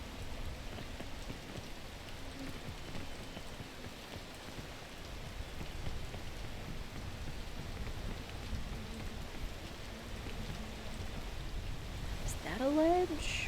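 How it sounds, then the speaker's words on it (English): Steady rain pours throughout the mountain-climbing game PEAK, a dense, even hiss of drops that holds at a constant level for the whole stretch, with a brief chirping sound near the end. "freaking rain!"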